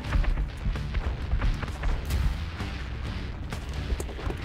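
Dense, continuous rumble of gunfire and booms in XCOM: Enemy Within as aliens assault the base, with shots aimed at a base guard; steady and fairly loud without clear individual breaks.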